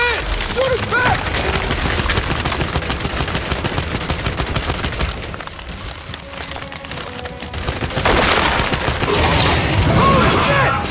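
Sustained, loud gunfire from a firefight in Gears 5, rapid bursts and shots fill the scene, dipping briefly midway before surging again in a dense, busy barrage.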